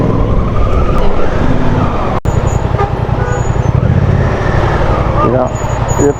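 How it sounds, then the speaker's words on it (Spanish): Dense, chaotic city traffic in Mosul, Iraq: a steady roar of car engines and road noise with horn toots and passing vehicles, loud and close throughout, with voices talking over it. "estamos ya en el caos de la ciudad"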